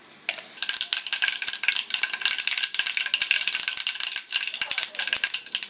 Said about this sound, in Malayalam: വെളിച്ചെണ്ണ ചൂടായിട്ടുണ്ട്. ഇതിലേക്ക് കുറച്ച് കടുകിടാം